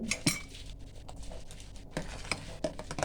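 Almond milk mixture stirred in a pot, a spoon clinking and scraping against the metal in quick irregular taps, close and fairly quiet.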